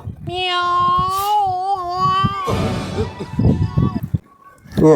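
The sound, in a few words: cat meowing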